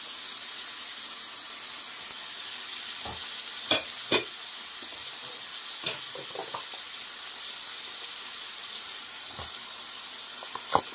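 Cumin seeds sizzle in hot oil for a traditional Bengali chal kumro (ash gourd) curry, a steady soft hiss with a few sharp pops and clinks of a spoon scattered through, close and alone.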